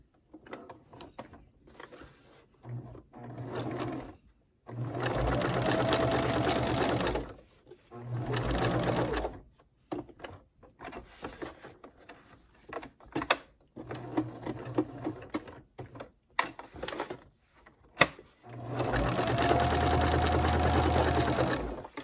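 Sewing machine quilting upholstery fabric pulled tight, running in several loud bursts of steady rapid stitching separated by pauses with quieter handling and shuffling of the fabric between runs.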